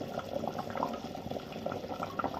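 Mutton curry bubbling and simmering under a lid in a home kitchen pot, a steady soft gurgle and sputter of liquid with small pops throughout, close and moderately quiet.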